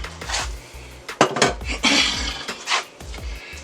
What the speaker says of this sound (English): we're just going to put in our apples